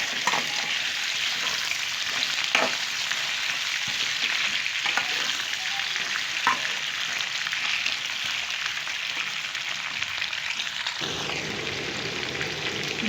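Potatoes, washed and dried, sizzle steadily in hot oil for an okra and potato sabzi, a loud continuous frying hiss with a few brief stirring clicks and no talk.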